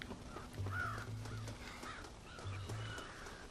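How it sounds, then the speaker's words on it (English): Crows caw twice in the Red Dead Redemption video game, each a short burst of harsh calls over a steady low hum and ambient outdoor game noise near a corn silo. "Scare the crows out of the silo. Protect your corn from the crows."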